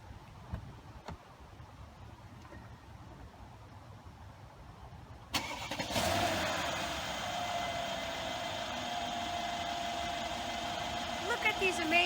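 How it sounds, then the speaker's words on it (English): 2016 Mercedes-Benz S550 started with a key: quiet cabin, then an abrupt crank and catch about halfway, settling into a steady close idle hum. "you have to put the key in and turn it to start the car"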